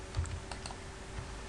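Someone typing C++ code on a computer keyboard, a short run of faint clicking keystrokes over a quiet room, with no talk.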